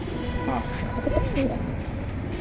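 Military breed pigeons coo in soft, repeated calls close by, with a low murmur of people talking in the background.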